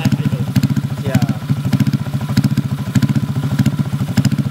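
A modified Honda Vario 125 scooter with a 182cc engine and tuned ECU idles close by, a steady lumpy low throb with rapid regular pulses and some mechanical clatter, alone without talk.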